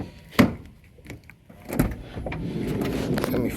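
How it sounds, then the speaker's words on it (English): Doors of a 2021 Toyota Sienna XSE minivan open with a sharp latch clunk, a second thud, then a steady motorized whir of a power sliding door running. "let me open the doors over here"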